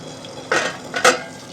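Rohu fish in hot mustard oil gives two short, sharp bursts of sizzle and scraping, close and fairly loud, over quiet background.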